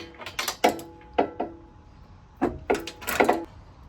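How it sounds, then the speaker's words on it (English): Mechanical clicks and creaks from loosening the rear exhaust bracket bolts on a classic Fiat 500 F during fitting of an IMASAF sports exhaust, in short close bursts with a pause in the middle, no talk. "I'm just going to have to loosen the front bracket here."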